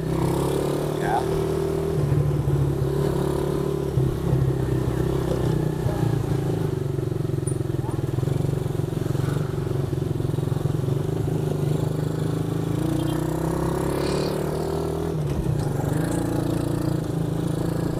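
Engine of a budget ATV with a double-muffler exhaust running while ridden in third gear, a steady droning rumble with a rough clattering edge held throughout at close range, with no clear pauses.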